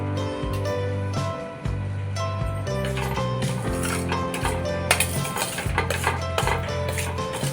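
Wheat flour roasting in ghee in a metal pan for sheera, stirred continuously with a spoon that scrapes and clinks against the pan in steady rhythmic strokes, close and fairly loud over a quiet background.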